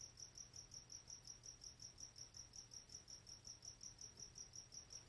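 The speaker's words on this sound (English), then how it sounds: "what an orchestra of crickets would sound like" Crickets chirping at night in a steady, rapid pulsing rhythm, faint and continuous with no other sounds.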